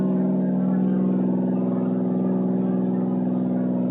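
Twin piston engines of a de Havilland DHC-4 Caribou military transport drone steadily as the props come up for a go-around, a loud continuous throbbing hum.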